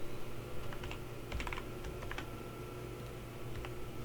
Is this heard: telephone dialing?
no